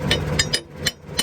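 Sharp metallic knocks, about five strikes in quick, uneven succession, close by, a spanner used as a hammer banging on metal while fitting a McConnel hedge trimmer to a tractor.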